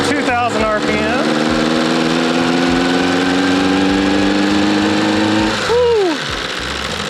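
A small homemade go-kart engine runs near and loud, holding a steady buzzing drone at about 2,000 RPM, then dips and swoops near the end as the revs change.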